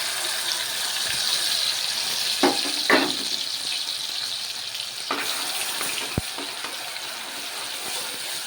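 Curry leaves and ginger-garlic onion paste fry in a pan for a fish curry, giving a steady loud sizzle with occasional stirring scrapes and a sharp clink.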